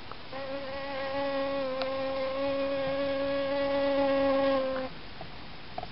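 A bee buzzes in a drought-resistant cottage garden, a steady, close, droning hum holding for about four and a half seconds before it abruptly stops, leaving faint outdoor background.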